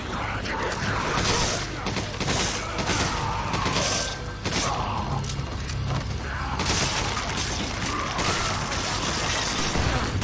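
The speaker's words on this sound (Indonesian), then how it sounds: "Parah-parah, ada yang lemparin bom, cuy." Bomb blasts and gunfire from the Resident Evil 5 video game roar continuously, with crashing bursts and rattling mechanical clatter making up a loud, dense wall of noise throughout.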